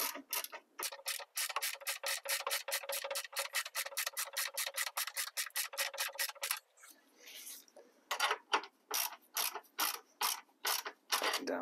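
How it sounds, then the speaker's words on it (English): Ratchet wrench tightening the battery hold-down nut on a 2003-2011 Honda Element: a long run of rapid, even clicking strokes up close, a brief pause with a faint rub, then several more bursts of clicks. "with the other hand, we're going to want to tighten down the nut"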